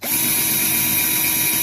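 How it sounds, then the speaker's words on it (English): A power drill bores into a metal mower hub being adapted to mount ATV wheels, a steady close high-pitched whir that starts abruptly and runs continuously without talk. "So I use a drill bit that just fits inside here."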